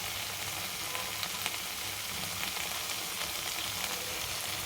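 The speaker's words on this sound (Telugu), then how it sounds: "మొత్తం కలిపి అప్పుడు కారం వేస్తున్నాం." Brinjal curry with chili powder and cumin fries steadily in a pan, a continuous close sizzle with faint scraping from stirring and no voices.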